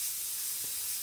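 Airbrush spraying paint for a photorealistic sunset: a steady, close, moderately loud hiss of air and paint runs evenly throughout, with no talking.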